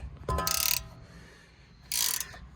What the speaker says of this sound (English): You're going to hold it in place with the ratchet